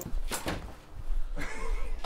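A workshop door opens or shuts with a couple of quick knocks and thuds, then a longer scraping movement, heard close with no one talking.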